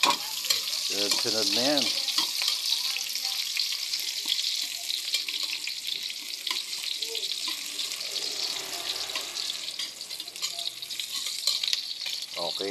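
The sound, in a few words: onion sautéing in pan for ginisang sayote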